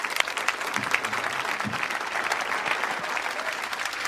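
An audience applauds steadily for about four seconds at a speech at Ellis Island, with a few faint voices mixed into the clapping.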